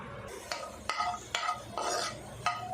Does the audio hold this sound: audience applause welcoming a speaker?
no